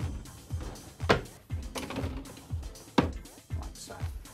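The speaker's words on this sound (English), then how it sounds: "And then you just lift the drawer up slightly, push it in" A wardrobe drawer on nylon-wheel runners is lifted and pushed in, producing a run of rhythmic rolling knocks and bumps close by, about one every half second, with a person talking over part of it.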